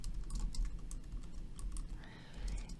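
Typing on a computer keyboard, soft quick clicking taps in an irregular rhythm, close but fairly quiet over a low background hum, with no voices.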